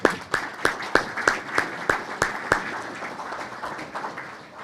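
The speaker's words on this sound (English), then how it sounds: "I just want to give you a round of applause" At a veterans breakfast, an audience claps in a clear, rhythmic beat of sharp, evenly spaced claps standing out over a softer wash of scattered applause, loosening and fading toward the end.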